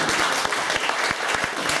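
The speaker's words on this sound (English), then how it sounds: "So give yourselves a round of applause." A room full of people gives a warm round of applause at a gathering, dense and loud clapping heard up close, with a few sharper individual claps standing out through the brief burst.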